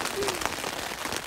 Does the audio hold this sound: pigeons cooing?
no